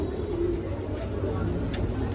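A Saharanpuri female pigeon coos softly and faintly in a low, murmuring rumble, set against steady background noise with no clear talk.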